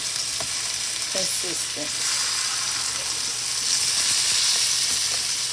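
Sausage fries for a family breakfast, giving a continuous bright sizzle that stays loud and steady the whole time. Someone speaks briefly over it near the start.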